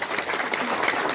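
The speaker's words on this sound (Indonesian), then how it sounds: "tepuk tangan dulu" Audience applause at a Hindu community gathering in Yogyakarta, a dense, steady burst of many hands clapping together, fairly close and sustained with no voices over it.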